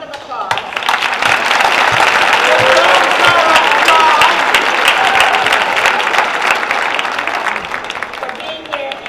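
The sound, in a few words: audience applause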